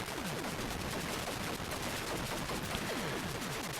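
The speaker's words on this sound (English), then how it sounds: "the sound that the flying enemies make when you destroy them as well" Enemy destruction effect from the Atari 8-bit game Warhawk, a dense, harsh burst of crackling noise with repeated falling chirps, loud and continuous for the whole stretch.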